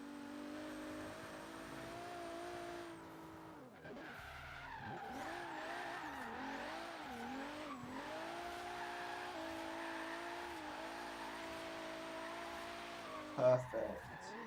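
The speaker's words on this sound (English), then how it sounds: "I'm gonna go to this roundabout just up ahead and see if I can hold a drift at it." Alfa Romeo Milano Quadrifoglio Verde drifting around a roundabout in a driving game, engine droning steadily with wavering pitch as tires skid, a brief sharp thump near the end; a voice talks over it.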